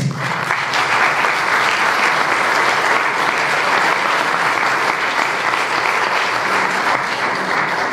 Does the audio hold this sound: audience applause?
yes